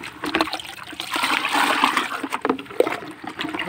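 Water for poultry vaccine is stirred and swirled in a container, a close, continuous sloshing and splashing with a few brief knocks and no speech.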